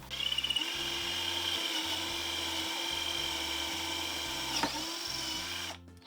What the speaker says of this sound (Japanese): この穴をガイドにこの天板に穴を開けます